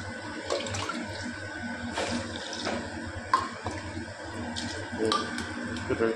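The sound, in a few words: water poured into cooking pot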